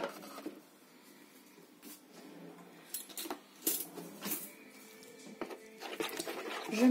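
A spoon stirs ground spices with water and a little oil in a bowl for a chicken pastilla, giving faint, irregular clinks and soft scraping strokes with no one talking.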